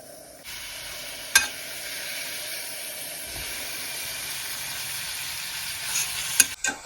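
Kimchi hitting hot olive oil in a pan, a steady close sizzle and hiss with a couple of sharp clatters as it is stirred, no talking.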